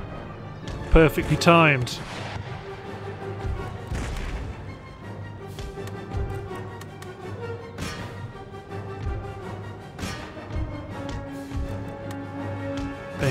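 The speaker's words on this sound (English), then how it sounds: "Whoa, with a cavalry, with a cannon shot." Cannon shots and musket volleys across an Empire: Total War battlefield, scattered thuds and booms under a shouted command and steady talk.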